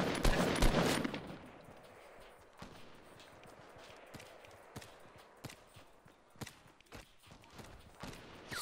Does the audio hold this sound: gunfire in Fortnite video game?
yes